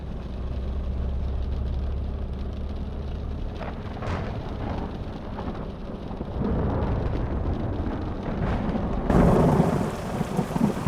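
Rain and thunderstorm in a trucking video game, steady rain hiss with rolling thunder that swells in loudness, continuous and fairly loud throughout with no voices.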